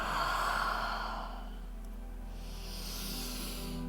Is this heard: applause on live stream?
no